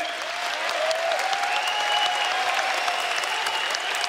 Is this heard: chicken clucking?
no